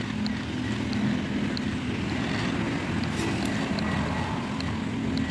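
A Swaraj tractor drives through an eggplant field with a steady, rumbling engine drone that stays loud and continuous under wind noise.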